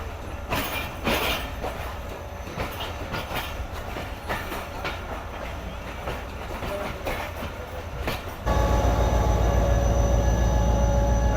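The Sukkur Express, hauled by HM30 locomotive 8203 from Karachi, runs on with steady clickety-clack wheel rhythm and rumbling carriages, then a sudden louder, denser roar as the sound of the run grows closer.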